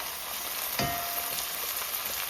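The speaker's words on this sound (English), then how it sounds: "So now I'm going to add the ackee." Ackee frying in a hot pan in a Jamaican ackee and saltfish dish: steady close sizzling throughout, with a brief scraping stir and no talking.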